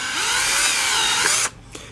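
A power drill whines loudly while boring into part of an Arrma Kraton 8S 1/5-scale RC truck, a sustained high-pitched grinding that stops abruptly, followed by a brief short burst.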